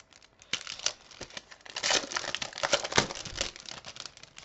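Plastic sticker package opened by hand, crinkling and rustling close up in irregular bursts that grow denser and louder toward the middle.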